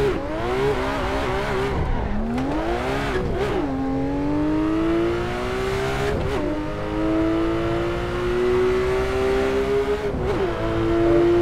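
Porsche 911 R engine in the Assetto Corsa racing game at the Red Bull Ring, revving hard and climbing through the gears in repeated rising sweeps with brief dips at each shift, loud and continuous throughout.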